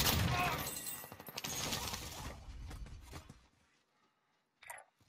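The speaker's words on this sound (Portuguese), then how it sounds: "tiro bonito de sniper" A burst of loud sniper gunfire in Call of Duty: Warzone crackles and rattles for a few seconds, then fades, followed by a brief, sharp mechanical click near the end.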